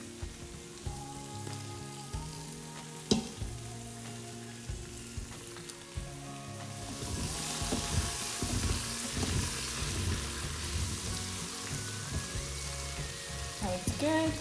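Chunks of beef browning in hot oil inside an Instant Pot for beef stew, a steady close sizzle and crackle that swells louder in the second half, with occasional clanks of stirring.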